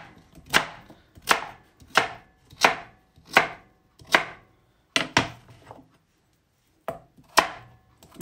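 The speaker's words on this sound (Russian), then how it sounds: "Мы сейчас ее порежем вот на такие кусочки." Peeled pumpkin being cut into pieces with a knife on a board, about ten sharp, evenly spaced chops close up, with a short pause before the last few, no talking.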